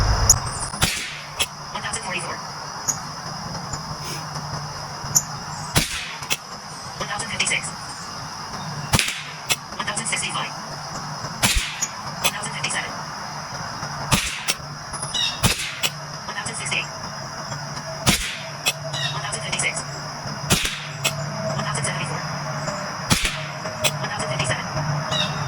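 Rifle shots from a kid bolt rifle sound out as a series of sharp, loud cracks at irregular intervals, roughly a dozen in all, with faint background noise between them.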